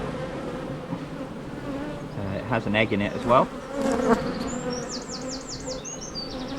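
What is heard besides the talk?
honey bees on an open hive frame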